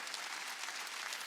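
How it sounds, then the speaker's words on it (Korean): A church congregation at a Sunday service claps together to glorify God, a brief, dense burst of steady applause from many people. "반복하여 기도한 걸 믿으면 박수로 하나님께 영광 돌려."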